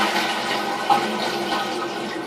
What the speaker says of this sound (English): So I'm going to flush to empty the tank.